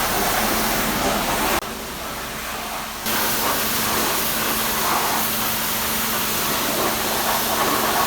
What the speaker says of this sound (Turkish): Evet aracımız alttan üstten güzelce yıkanıyor.